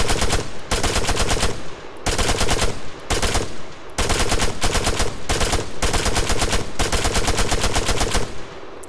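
Automatic rifle fire in Arma 3 at medium range, loud sustained bursts of rapid shots, about six long strings separated by short pauses.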